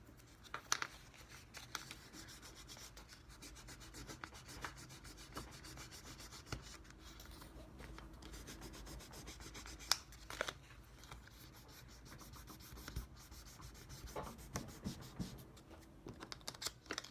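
A plastic nub being wet-sanded smooth with fine 1500 grit sandpaper: a steady, soft scratching rub going on continuously at close range, with a few small clicks and taps mixed in.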